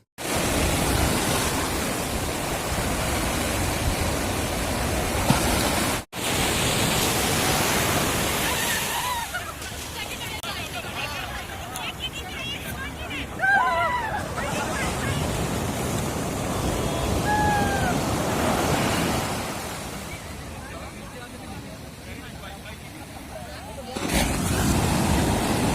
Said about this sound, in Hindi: क्या खूबसूरती होती है समुद्र की लहरों की। आते हैं बहुत जोश में और किनारे से टकरा के फिर वापस चले जाते हैं।